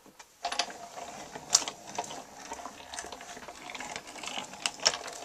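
A greeting card cranked through a manual embossing machine for dry embossing, giving a steady close mechanical rattle and clicking of gears and rollers with sharp ticks scattered throughout.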